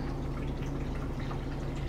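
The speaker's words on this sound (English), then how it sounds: "Run a little bit through the spigot" Sanitizer liquid runs out through the spigot of a Mr. Beer brewing keg, a steady close trickling and splashing stream with no talk.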